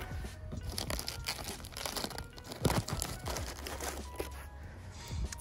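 Packaging around new headlights for a Mazda Miata crinkles and tears close up, a dense, irregular run of crumpling and ripping rustles with a louder tear midway.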